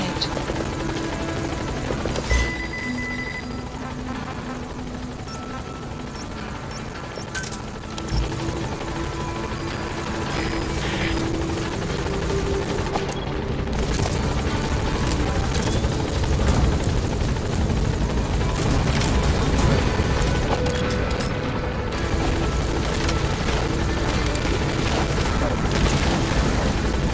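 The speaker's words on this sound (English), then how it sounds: "Support helicopter has arrived." A support helicopter arriving in Metal Gear Solid V, its rotor thudding and engine roaring loud and close throughout, steady and dense, with faint voices underneath.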